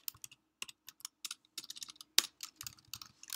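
Computer keyboard keys tapped in quick irregular bursts while code is typed, close and crisp clicks separated by brief pauses.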